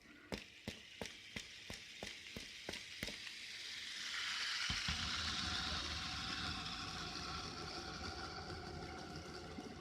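A magnetic rotor in a magnetic mirror rotational field setup is spun up, first ticking in evenly spaced clicks, then turning into a continuous whirring hum that rises and holds steady, fairly faint, with no talking.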